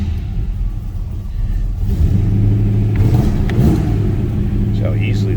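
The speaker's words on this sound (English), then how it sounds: "See how easily that 350 starts." A 350 V8 in a 1941 Chevrolet Super Deluxe Coupe street rod cranks briefly, catches, and settles into a loud, steady, deep idle rumble heard up close.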